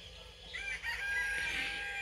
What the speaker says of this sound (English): I swear that rooster crows underneath the window.